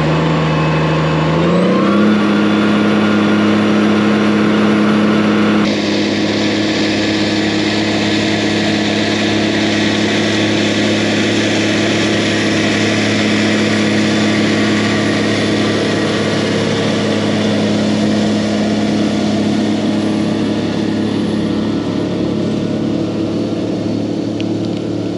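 Truck engine running steadily through a feed mill load dump, a loud continuous idle drone with a brief rev near the start and a slight shift in pitch partway through, no voices.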